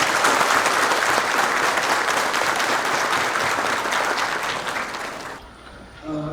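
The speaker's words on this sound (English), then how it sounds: "Shall we all give a huge round of applause to this beautiful gathering?" Sustained applause from a graduation ceremony audience, a dense steady clatter of many hands that fills the hall for about five seconds before cutting off abruptly, leaving a brief quiet tail.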